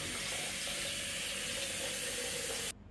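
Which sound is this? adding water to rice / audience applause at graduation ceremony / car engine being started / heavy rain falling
adding water to rice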